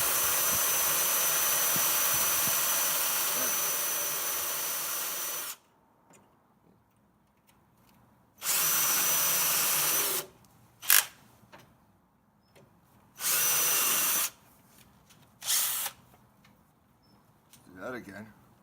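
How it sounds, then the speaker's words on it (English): A drill fitted with its smallest bit bores into a Jeep TJ tailgate in several separate bursts, a long opening run and then shorter ones, with quiet gaps and brief talk between them. "I'm going to make sure my drill's level."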